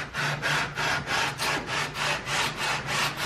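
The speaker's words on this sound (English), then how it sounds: "I use an old 2-foot ruler that I use two-sided tape, put some sanding paper on it. Now I'm gonna flatten the fingerboard." Sandpaper taped to an old two-foot ruler rasps back and forth along a Rickenbacker bass fingerboard as it is flattened, a close, steady rhythm of about eight even strokes with no talk.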